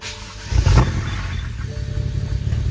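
BMW N54 engine cranking and catching with its fuel pump fuse pulled, a loud starter grind that jumps into a rough, uneven idle with clattery mechanical noise, heard up close in a garage.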